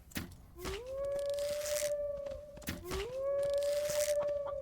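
A wolf in the survival video game The Infected gives two long, rising howls that hold steady, each starting with a short yelp, loud and close, with faint background noise and no talk.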